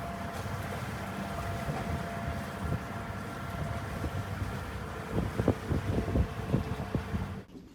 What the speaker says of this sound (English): We are motorsailing again.